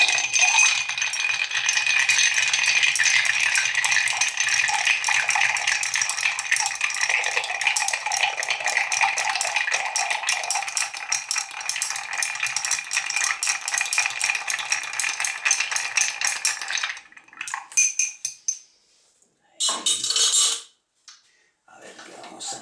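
A cocktail with coffee liqueur shaken hard in a shaker, a loud, steady rattle of ice that runs for about seventeen seconds, then stops and gives way to a few short clatters.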